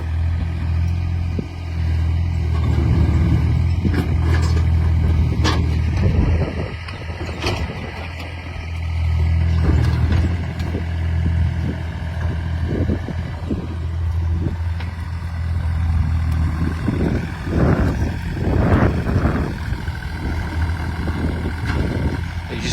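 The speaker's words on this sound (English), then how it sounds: "Driving an excavator on a floating dock, pushed by a boat" A mini excavator drives on a floating dock pushed by a boat on a lake, its engine chugging and idling with clanks and mechanical rumbles that swell and ease throughout.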